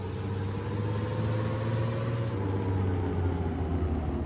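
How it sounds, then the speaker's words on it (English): A truck engine drones steadily at a distance, a low continuous rumble with a faint high whine that cuts off midway. "I think there's another truck over there off in the distance."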